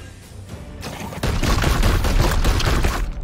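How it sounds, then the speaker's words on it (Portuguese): Gunfire in the video game Warhammer 40,000: Chaos Gate Daemonhunters, a quiet lead-in followed by a loud sustained burst of rapid shots and booms lasting about two seconds. "Espera aí, dá um tiro nele."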